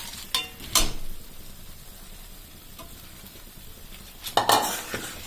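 Fried potatoes are stirred into a chilli sauce in a pan. A few sharp scrapes and clinks of a utensil against the pan sound at the start and near the end, over a faint background sizzle. No one speaks.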